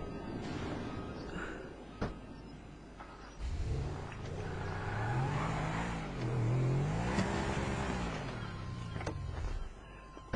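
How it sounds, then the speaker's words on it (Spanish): Car engine in the GTA Online video game, revving and accelerating as the vehicle is driven off, a steady loud rumble with rising pitch sweeps, heard alone. "voy a apartar el coche de aquí"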